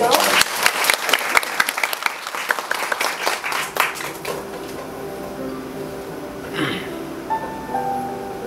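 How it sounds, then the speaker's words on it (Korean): An audience at a book concert claps in a burst of sharp, overlapping hand claps for about four seconds, then the applause thins out and dies away into a quiet room. "박수로 박수로."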